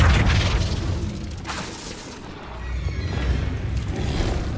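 Flipendo spell cast in Hogwarts Legacy during combat, a loud low booming blast with a rumbling tail, fading slightly then swelling again into a dull, heavy rumble.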